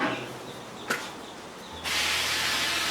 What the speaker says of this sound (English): I'll spray that